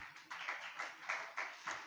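Audience applause welcoming the chief guest at an inter-school speech competition in Karachi, heard as faint, distant clapping that swells in several uneven waves.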